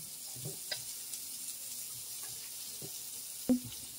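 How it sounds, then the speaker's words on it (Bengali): Rice frying in ghee in a pan for moong dal khichuri gives a quiet, steady sizzle, broken by a few soft clicks and stirring scrapes and one sharper knock near the end. "চালটাকে আমি ঘি দিয়ে ভাজলাম।"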